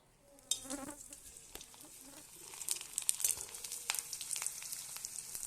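Potato and sabudana chakri fry in hot oil with a soft, steady sizzle and crackle, quiet and close, after a sharp clack near the start, with no talk.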